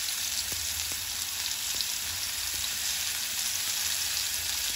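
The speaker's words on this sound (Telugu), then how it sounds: "మనకి ఇలా పొడి పొడి పొడి పొడిగా వేయించుకోండి." Beetroot spice powder dry roasts in a pan, a constant close crackling sizzle with a few faint taps of stirring, heard alone.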